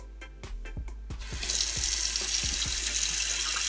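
Lukewarm tap water runs into a sink for washing curly hair, starting after a few sharp knocks and clatters and then settling into a steady, close rushing stream with occasional thuds, and no one speaks.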